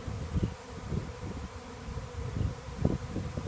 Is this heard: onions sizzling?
no